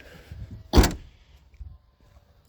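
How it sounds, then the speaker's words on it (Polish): The adjustable boot floor of a 2017 Volkswagen Golf 7 estate, 1.6 TDI, is lowered with a single close, dull thump, then a quiet cabin with a few faint knocks. "Tą podłogę można jak to w Golfie 7 dać niżej, wtedy jest niżej."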